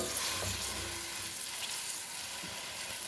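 A pot of Lahori-style chickpea curry bubbles over medium heat, giving a dense, even hiss and crackle of boiling liquid that holds steady throughout, close up and without voices.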